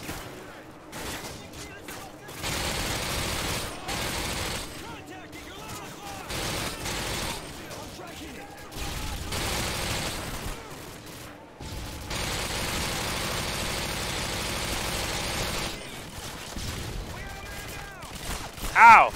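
Gunfire in Call of Duty: Modern Warfare 2 comes in bursts of rapid shots and louder blasts, broken by short quiet gaps, with a sharp loud crack near the end.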